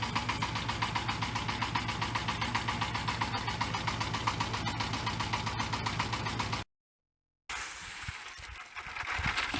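A car engine idling steadily and fairly loud with a rhythmic mechanical throb, then cutting out for a moment before a rougher rumble returns.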